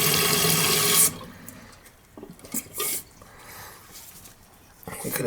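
A large flushing toilet's tank runs with a loud, close rush of water for about a second, then drops to a quieter background with faint drips and small plastic clunks before the water rises again at the end.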